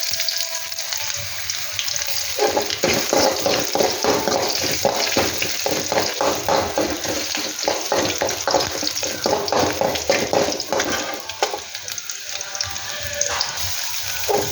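Garlic and ginger frying in a pan for fried rice, a steady loud sizzle with stirring scrapes running throughout, close up and without talk.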